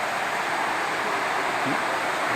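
A waterfall made by damming water in the village of Mae Kampong during the rainy season roars as a steady, broadband rush, continuous and close with no talk over it.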